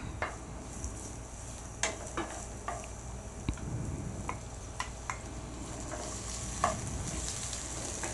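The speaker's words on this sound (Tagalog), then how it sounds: "Gisa na natin ang sibuyas. Sunod ang bawang. At ang kamatis, syempre." Onion, garlic and tomato sauté in hot oil for a salmon-head miso sinigang, giving a steady close sizzle, scattered with sharp taps and clinks of a utensil against the pan, and no talk.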